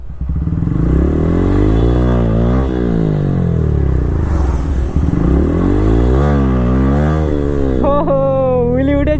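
A Bajaj Pulsar N160 motorcycle engine is revved hard during a wheelie. It sounds loud and close, with the pitch swinging up and down through several rev cycles before ending in a brief higher, wavering tone.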